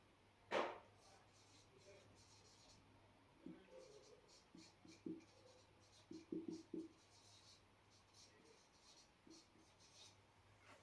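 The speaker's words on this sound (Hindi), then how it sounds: "यहाँ पर मैं एक लिख रहा हूँ यहाँ पर" Pen scratching on paper while writing out a card-format invitation, with short, soft strokes in uneven bursts, close and quiet against a low steady hum.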